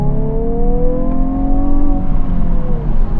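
A Hyundai i20N with a 1.6 engine holds a steady, loud drone whose tones rise and fall slightly as it revs. No distinct pops stand out.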